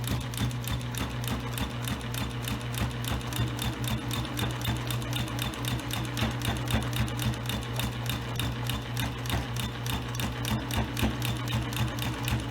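A sewing machine runs continuously at a fast, even pace, stitching minky and cotton fabric for a baby blanket, loud and close with a rapid rhythmic needle chatter and no talk.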